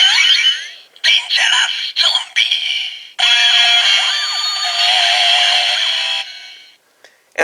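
A Kamen Rider Ex-Aid Dangerous Zombie Gashat toy plays its electronic name activation, a loud, bright burst of tinny synthesized voice and music through a small speaker, running several seconds before stopping.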